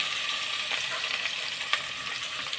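Ground meat frying in a pan, a dense, steady hiss with a couple of soft stirring clicks, close and moderately loud, no talk.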